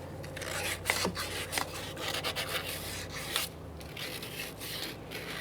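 Hand-cleaning burrs and rust from a ball joint bore on a 2011-2021 Jeep Grand Cherokee: steady close scraping and rubbing strokes over a low background hum, with no speech.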